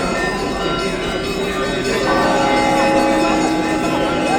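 Church bells peal in Kamianets with overlapping ringing tones that swell louder midway, sustained over a noisy crowd background, with voices faintly mixed in.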